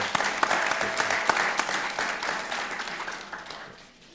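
Audience applause for a panel of speakers at a policy forum on India–United States partnership, steady and dense clapping throughout that fades slightly toward the end.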